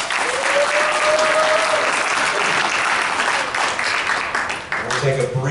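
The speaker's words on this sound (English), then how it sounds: "one more round of applause" Conference audience at a security talk breaks into sustained applause, dense clapping filling the room, with a speaker's voice briefly heard over it.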